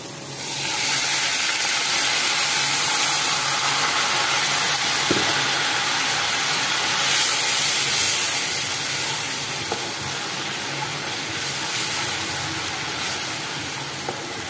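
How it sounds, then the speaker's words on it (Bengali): Water poured into pomfret fish masala frying in a pan brings a continuous, loud sizzle and steamy hiss that holds steady, with a few faint clinks underneath. "এবার এখানে আমি সামান্য জল দিয়ে দেবো।"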